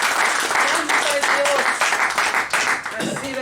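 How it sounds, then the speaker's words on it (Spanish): A church congregation claps and applauds for Jesus, loud sustained clapping in a pulsing rhythm, with a preacher's voice carrying over the crowd. "Dale una ofrenda de palmas a Jesús"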